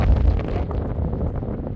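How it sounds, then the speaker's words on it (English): Gusty wind on a rocky summit above 6,300 feet in Eastern Washington's mountains roars in a low, rumbling buffet across the microphone, loud and continuous with no voices. "Sure, it was windy up here."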